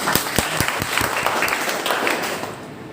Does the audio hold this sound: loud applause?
yes